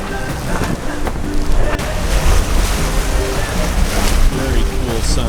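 A sailboat reaches across a breeze on a beam reach, with loud rushing wind buffeting the microphone and water washing along the hull in a steady, noisy wash, and a voice faintly present underneath.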